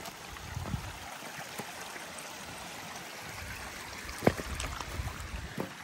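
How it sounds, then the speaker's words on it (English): Creek water flowing steadily during a creek crossing on a hiking trail, a soft continuous rush with occasional nearby splashes from footsteps, moderately close and without talk. "Another creek crossing here."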